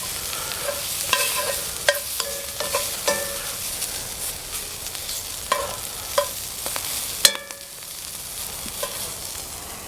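Brussels sprouts pan-roast over a campfire, crackling and hissing continuously while metal scrapes and clinks of stirring punctuate the sizzle at irregular intervals.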